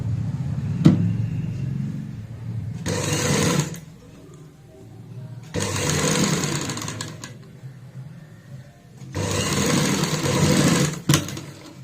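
A sewing machine stitches fabric in three long steady runs of motorized whirring, each lasting a couple of seconds, with quiet pauses between them as the cloth is repositioned.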